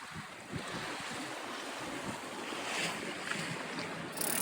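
A Buccaneer 18 sailboat on a broad reach through moderate waves gives a continuous wash of water rushing past the hull, mixed with steady wind buffeting the microphone, with no talking.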